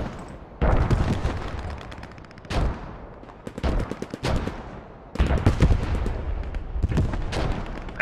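Artillery barrages in the video game Post Scriptum: several heavy booming blasts and bursts of gunfire hit in clusters, loud and close, with rumbling decay between impacts.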